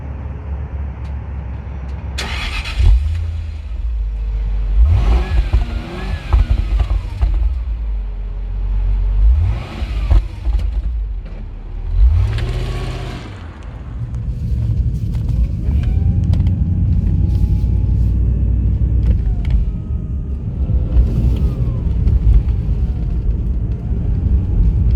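A Jaguar XJR's engine revs repeatedly in deep, rumbling bursts as the car pulls away, then settles into a steady driving drone, loud and close, with no talking.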